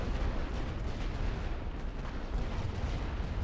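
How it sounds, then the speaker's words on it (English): A sustained artillery barrage rolls on in a war video game, dense overlapping booms and blasts blurring into a continuous, moderately loud roar with no voices. "Tirez avec toute l'artillerie."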